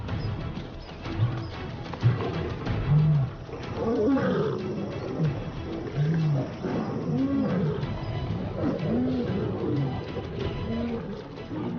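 Wild lions fight, trading repeated deep, rumbling roars and snarling growls that rise and fall in loud bursts across several seconds, heard close and raw with no talking over them.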